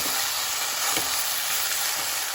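Tomato with fresh peas sizzles and fries in a pan of pav bhaji mixture, a steady close hiss of oil and steam with faint stirring scrapes and no talking.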